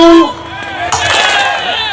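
Students at a school gathering break into a burst of crowd clapping too early, a brief noisy patter that follows a short spoken word and fills the remaining two seconds.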